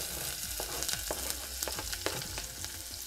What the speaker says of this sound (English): I'm gonna go ahead and add some onions into my pot here